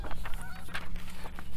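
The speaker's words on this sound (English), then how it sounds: "There's more geese." Several scattered goose honks, fairly faint and outdoors over a low rumble of background noise.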